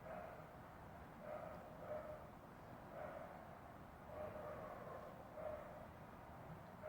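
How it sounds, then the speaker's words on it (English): Unattended dogs bark repeatedly at a neighbouring residence, heard faintly through walls in a quiet room. The barks come in uneven bursts about a second apart, distant and muffled. "So this can carry on for literally hours because there's just nobody to calm the dogs down."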